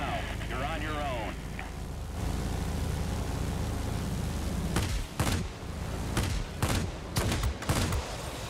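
Aircraft guns firing in World of Warplanes on an XP-58 Chain Lightning heavy fighter: a roaring engine drone, then several short, loud bursts of rapid gunfire in quick succession, with a voice talking over part of it.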